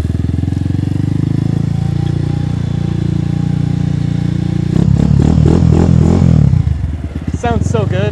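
A Lifan KP Mini motorcycle engine drones loud and close while riding, its pitch sliding up and down, then revving harder with rising, stepped bursts near the end as a voice talks over it.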